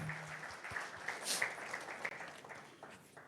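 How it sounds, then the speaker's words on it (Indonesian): A church congregation at a Sunday worship service in Kelapa Gading, Jakarta, cheers and claps in a soft, steady wash of applause and scattered shouts, heard from some distance in a large hall. "sorak-sorai yang kenceng buat Tuhan kita yang baik"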